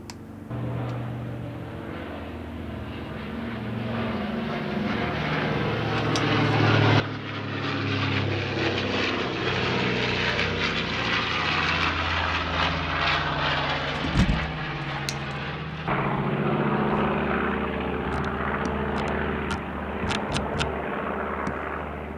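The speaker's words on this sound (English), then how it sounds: "He's flown around a couple times now today. Must be an air show somewhere." A propeller airplane circles overhead at a distance, its engine drone rising and falling steadily for about twenty seconds with no voices.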